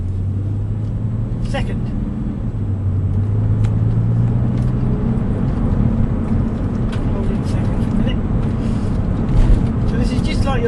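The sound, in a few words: Porsche 911 996.2 Tiptronic with Dansk exhaust driving, shifting gears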